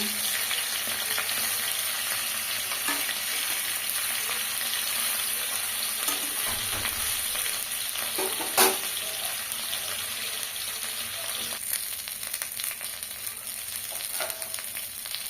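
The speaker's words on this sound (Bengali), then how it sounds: "যেহেতু আমি অল্প তেলে মাছগুলো ভাজছি, সেই জন্য কড়াইটাকে ভালো করে গরম করে নিয়েছি আগে।" Small rohu fish fry in a little oil in a well-heated wok, a steady close hiss and sizzle with faint crackles and a few soft clinks, no talking.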